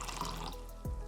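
Water poured from a container into a vase during a home science demonstration, a brief close splashing pour with a short gurgle near the end.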